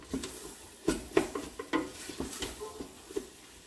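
Chicken and sausage gumbo for a Louisiana Cajun recipe simmers in a pot on medium low, soft sizzling under a series of stirring scrapes and light clanks of a spoon against the pot.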